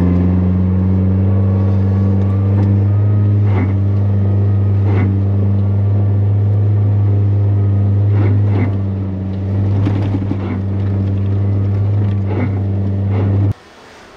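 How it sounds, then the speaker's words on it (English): Suzuki Jimny driving in sand while stability control intervenes, a loud steady engine drone with strong low hum throughout, slight surges and dips, then abrupt cutoff near the end. "Just watch this Jimny fight against its stability control."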